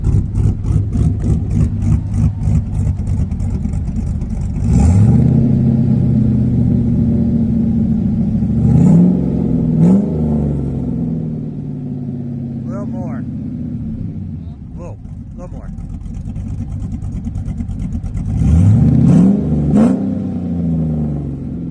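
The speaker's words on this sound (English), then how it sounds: "You want to give it a little rev? Give it a little rev." An LS-swapped Chevrolet S10 engine idles with a loud, close, lumpy rumble, then revs up sharply about three times before settling back, with people talking briefly over it.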